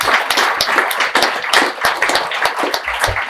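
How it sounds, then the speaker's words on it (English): Applause from a small audience at a book launch interview, distinct close claps in a quick, uneven rhythm, fairly loud and without talk over them. "so round of applause to everyone here."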